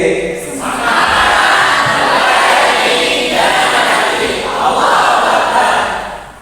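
Audience applause and cheering fill a hall during an Islamic foundation's speech event, a dense, loud wash of clapping swelling in and sustained throughout.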